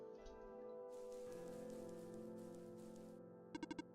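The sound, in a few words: rain in the video game OneShot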